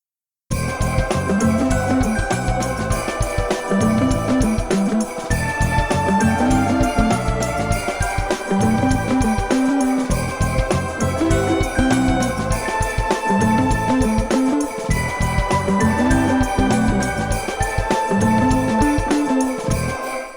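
A bright, festive retro video game Christmas tune plays with accordion, violin, flute and glockenspiel layered together over a bouncing rhythmic bass, continuous throughout.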